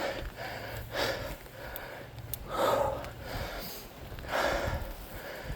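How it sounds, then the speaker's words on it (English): Heavy, labored breathing from an out-of-shape rider on a bicycle, with loud gasping breaths close to the mic at roughly one-to-two-second intervals. "Lots of heavy breathing because I am fat and very out of shape."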